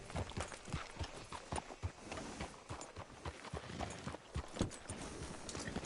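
Horse hooves clip-clop at a walking pace in a video game, a steady run of hollow knocks in an uneven rhythm, fairly quiet and alone.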